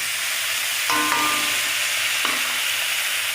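Soaked, washed mung dal sizzling steadily in a pan, a broadband frying hiss with a few louder stir scrapes and clinks, close and without talk.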